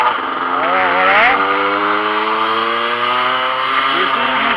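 A 2007 Derbi GPR motorcycle engine idles loud and close, a steady buzzing drone with one brief rev blip early on, running alone without talk.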